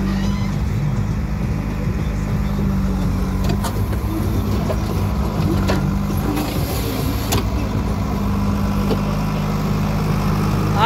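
A hired machine runs while loading soil to fill a farm field, its engine giving a loud, steady drone that continues without a break throughout.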